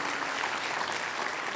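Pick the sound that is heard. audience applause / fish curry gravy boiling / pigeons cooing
audience applause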